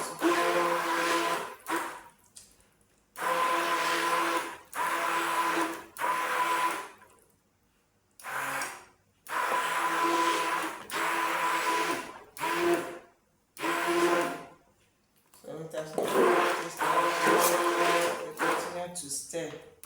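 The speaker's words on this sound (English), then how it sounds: "I'm going to use my mixer or my hand blender to mix it well quickly" A hand blender whirs in repeated loud bursts of a few seconds each, separated by short pauses, as it mixes thick laundry bar soap batter.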